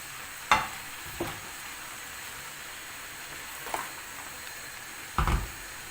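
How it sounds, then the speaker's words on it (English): Spaghetti bolognese cooking in a pan gives a soft, steady sizzle and hiss, broken by a few sharp knocks and scrapes of a utensil against the pan, quiet and close with no talking. "I'm just going to turn the heat down on this and let it simmer so it goes nice and thick"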